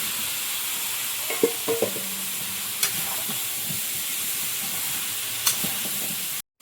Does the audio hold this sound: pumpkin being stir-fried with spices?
yes